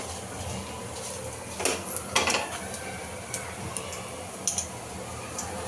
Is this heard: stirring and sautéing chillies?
yes